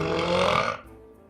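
A single drawn-out burp, close and fairly loud, lasting under a second before trailing into quiet.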